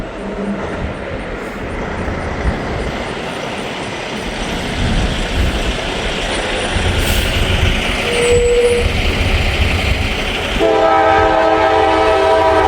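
CSX freight train passing a crossing, a loud steady rumble of rail cars building up, with a train horn sounding near the end, close and dominant.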